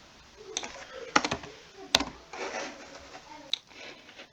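Code being typed on a computer keyboard, irregular bursts of close, clicky keystrokes with brief pauses and a few sharper key hits, in a quiet room.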